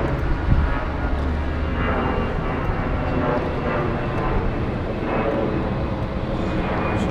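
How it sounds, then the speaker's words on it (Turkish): A fixed-wing airplane passes overhead near a Jeep Renegade 1.6 diesel, a loud continuous broadband engine roar holding steady for several seconds and filling the outdoor scene. "Uçak geçiyor"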